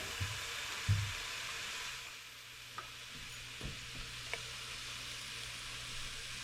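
Two packs of slightly frozen meat brown in a pan on the stove with a soft, steady sizzle, punctuated by occasional clacks of a utensil stirring and scraping.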